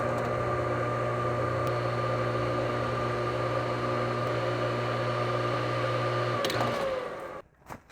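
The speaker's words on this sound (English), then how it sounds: "I'm going to turn this motor on to see if the smell is coming from the motor." Electric motor of a Craftsman 6x48 belt sander running at a steady, loud hum with a strong constant tone, then switched off near the end as the whine winds down.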